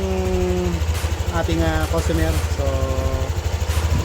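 A Yamaha Aerox V2 scooter engine idles smoothly after a camshaft bearing replacement, a steady low hum running throughout while someone talks over it close to the microphone.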